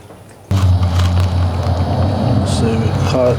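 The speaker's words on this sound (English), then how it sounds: "You see there's quite a bit of gas coming out." Gasoline gushes from an old-school spout on a plastic gas can, a sudden steady splashing pour that starts abruptly and runs continuously, with a voice talking over it.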